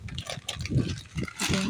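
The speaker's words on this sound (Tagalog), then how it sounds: "ilalagay ko na yung noodles" Noodles go into water boiled in an electric kettle, with faint splashing, bubbling and liquid sloshing close by, plus a few soft handling noises.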